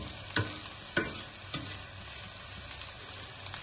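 Garlic stirred into lightly golden onions frying in a pan for tourtière gives a steady low sizzle with a few sharp scrapes of the utensil against the pan, close and clear.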